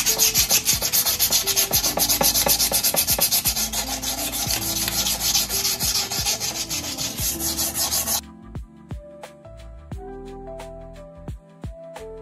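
Steady, rapid scratchy rubbing of 240-grit sandpaper against a Yamaha Aerox CVT cover, loud and continuous, then lighter, sparser strokes with faint tapping toward the end.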